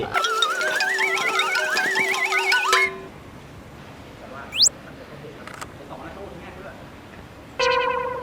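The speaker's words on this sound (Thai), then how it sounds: "อุ้ยโทรศัพท์เข้า" An incoming-call ringtone on a telephone chimes in short repeated bursts near the end, after a warbling electronic tone and amid background chatter, with people talking in the scene.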